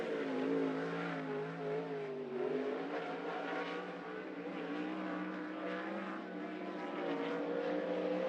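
A 360 sprint car running a qualifying lap on a Grays Harbor dirt oval, its engine a steady, fairly distant drone rising and falling slightly in pitch through the lap, with no talk.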